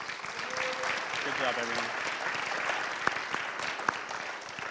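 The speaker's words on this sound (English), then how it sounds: "let's just give a round of applause to our seniors" An audience at a school fall athletic awards ceremony applauds the team's seniors, steady clapping throughout with a few sharp claps standing out, while a voice speaks briefly over it.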